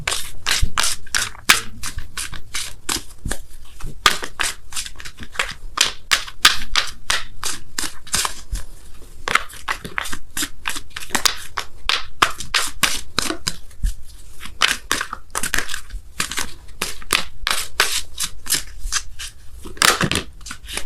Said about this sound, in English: I'm going to pull you guys a Wisdom of the Oracle card as well